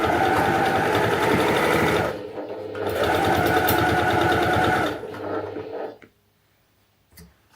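A sewing machine stitches a patchwork hoodie in two loud, rapid runs of close mechanical chatter, separated by a brief pause, then slows and stops, leaving near silence with a soft click.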